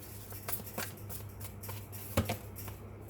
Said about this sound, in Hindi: तो मुझे 2 कार्ड्स और लेने पड़ेंगे